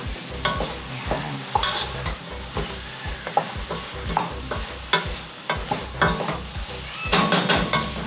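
Mushrooms seasoned with black pepper sizzle in a pan for mushroom soup while a utensil stirs them in steady, repeated scrapes and knocks, close and fairly loud, with no talking.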